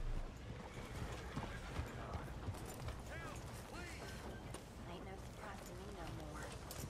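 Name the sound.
horse hooves clip-clop, Red Dead Redemption II video game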